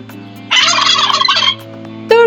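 A turkey gobbles in a loud, rapid rattling burst lasting about a second, followed by a short fainter call near the end, with a steady low hum beneath.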